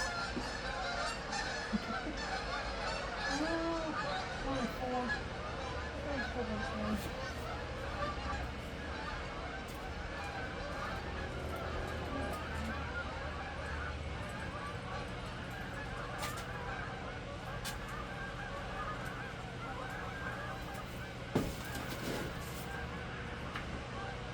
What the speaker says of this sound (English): Oh wow, there's all the geese.